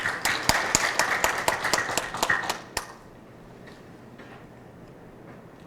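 Forum audience giving a short round of applause, several seconds of clapping with distinct sharp claps that stop abruptly, followed by quiet room tone.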